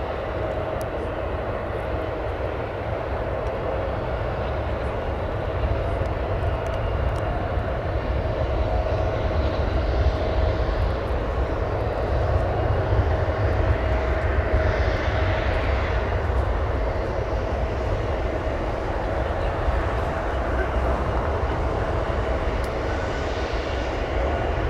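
A 22-year-old airliner taxiing and back-taxiing across runways at O'Hare Airport, a continuous loud jet engine roar with a steady whine holding level throughout, heard from the airfield edge.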